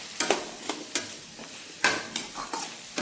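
Garam masala and kitchen king masala are sautéed in oil in a pan, with a series of sharp spatula scrapes and stirs over a faint sizzle.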